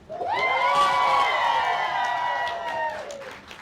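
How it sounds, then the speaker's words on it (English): At an anniversary celebration, an indoor audience cheers for an honoree with a sustained, ringing whoop that holds for about three seconds and then fades. Clapping is not distinct under the cheer. "if we can give her a cheer for living Ubuntu every day"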